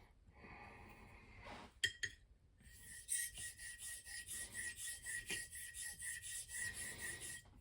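A straight razor is honed on an Arkansas stone in quiet surroundings: a few scattered scrapes, then steady rhythmic back-and-forth rasping strokes, close and clear.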